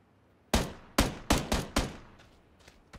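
Gunfire in the PUBG battle royale game, a handful of sharp, loud shots in an uneven rhythm followed by fainter, more distant cracks.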